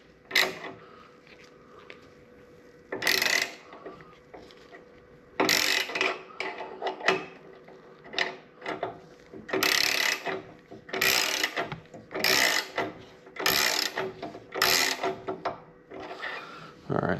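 A Legend Revo Arc piggyback suspension part is tightened by hand, making repeated bursts of ratcheting, creaking mechanical clicks close by, with short pauses between them.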